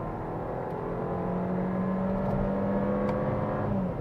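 A Mercedes-Benz CLA Shooting Brake in sport mode, its engine droning steadily with a rising harmonic whine as revs build, loud and continuous with no talk.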